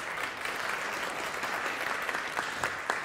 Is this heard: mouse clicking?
no